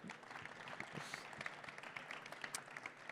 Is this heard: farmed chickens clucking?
no